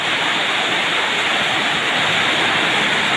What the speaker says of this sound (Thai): น้ำท่วมอีกแล้วท่วมบ้านอีกแล้ว